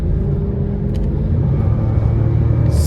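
A 2006 Cadillac XLR roadster with the 4.6 Northstar engine accelerates in rush hour traffic, a loud, steady low engine rumble heard from inside the car, with no talking.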